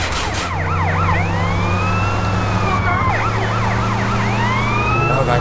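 A police car siren wails continuously in GTA San Andreas with an underground mod, loud and close, cycling its rising and falling tone over steady engine rumble.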